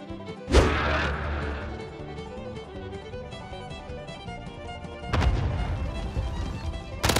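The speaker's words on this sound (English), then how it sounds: "Enemy cruise missile incoming!" A cruise missile strikes in Call of Duty Modern Warfare, landing as a sharp, loud crash that booms and decays. A second heavy impact hits about five seconds later over a dense background of game noise.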